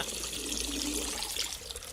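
Urination from a Stargate episode scene, a steady close trickling stream of liquid that runs without a break for the whole short span.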